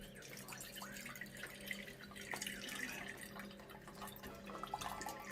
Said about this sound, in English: So drain it into a pot.